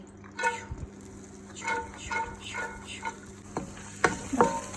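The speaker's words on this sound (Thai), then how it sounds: "ผัดให้หอมสลดไปเลย" Shallots are stir-fried in olive oil for tuna fried rice: quiet bursts of sizzling with scraping stirs come in an uneven rhythm, close by.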